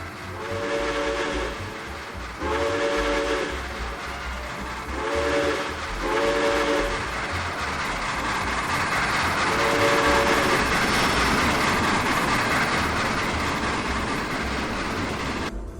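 A New York Central J Hudson steam locomotive, as recreated in the Trainz game, sounds its eight-chime step-tone whistle in several loud, separate blasts, some short and some drawn out, over a steady rumble of rolling wheels.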